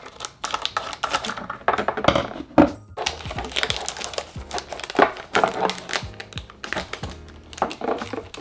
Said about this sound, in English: I'm gonna make it a little bit easier for myself by using a pair of scissors